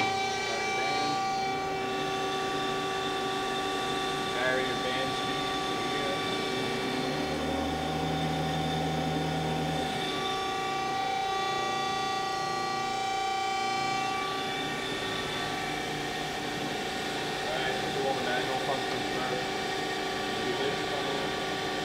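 A Do-All TF-2021NC 20 by 21 inch CNC vertical angle-cutting band saw runs with its hydraulics engaged, giving a steady loud tonal hum and drone throughout, with a brief lower rumble partway through.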